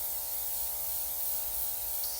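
A steady airbrush-like hiss of fine spray as diluted makeup is sprayed on, running continuously, with a faint mechanical hum underneath and no talking.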